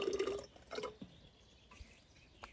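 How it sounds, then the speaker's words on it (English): Hydrochloric acid is poured into a boric acid solution made from borax, giving a few soft liquid drips and splashes early on, then a faint, quiet stillness with scattered small drops. "After I added the acid"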